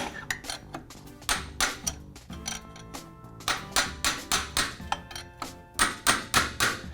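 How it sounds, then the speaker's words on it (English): A metal punch tapping a motorcycle rear shock's preload ring to tighten it, heard as a rapid run of sharp, close metallic taps in quick bursts that speed into an even rhythm near the end. "take your punch and give it a few taps and tighten it back up"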